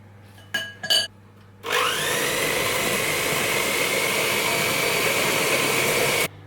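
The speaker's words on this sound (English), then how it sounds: "So I actually need to use an electric whisk, which I don't often use very often, so let's give this a go." A handheld electric whisk whirs steadily through banana bread batter, starting abruptly after a couple of light knocks and running loud and close for several seconds before cutting off.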